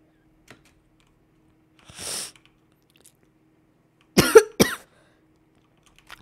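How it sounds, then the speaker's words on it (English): A person coughs: a soft, breathy cough, then after a pause two sharp, close coughs in quick succession, in an otherwise quiet room. "I'm so sorry for coughing"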